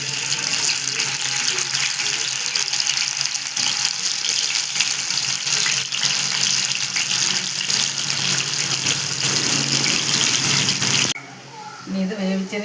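Food frying in hot oil in a pan on the stove gives a loud, continuous close sizzle and hiss that shifts in character near the end.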